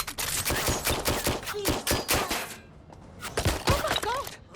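Gunfire in the video game Watch Dogs: Legion, rapid bursts of sharp shots in clusters with a short lull in the middle, mixed with clanks and game voices.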